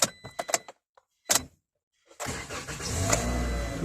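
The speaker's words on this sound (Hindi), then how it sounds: "गाड़ी एक बार बंद करके स्टार्ट भी करके आपको दिखा देता हूँ" A Toyota Corolla with an airbag circuit fault: a few clicks and key or switch taps, a short pause, then the engine cranks and starts, settling into a steady idle that runs to the end.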